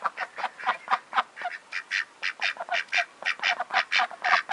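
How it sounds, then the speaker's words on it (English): Ducks quacking on the way to the pond in the morning, a rapid series of loud, close, nasal quacks in an uneven rhythm. "Morning, ducks."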